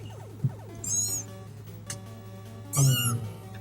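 Kittens meowing, two or three short high-pitched mews at close range over a steady low electrical hum, with small clicks and faint background sounds between them.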